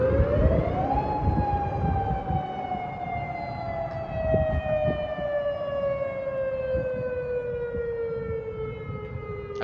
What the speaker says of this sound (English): Tornado sirens going off. I think we can even hear those.